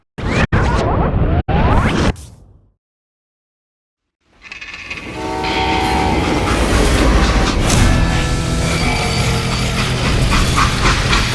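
A freight train in the Call of Juarez game rolls loudly over rails with rushing, clattering noise, cut off by a few seconds of silence before the rumble and mechanical rattling resume.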